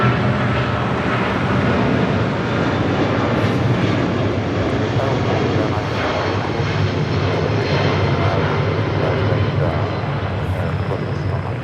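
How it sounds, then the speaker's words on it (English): An American Airlines Boeing 777-200ER departs LAX, its jet engines giving a loud, steady, broad roar that fills the scene throughout. "That is American Airlines 2129 departing to Miami on a 777-200ER."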